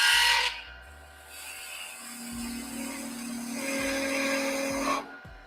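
Wooden ladle chuck being turned on a spinning lathe, a steady scraping and rasping cut that starts loud, eases, then builds again before stopping abruptly near the end, with a faint hum of the motor underneath.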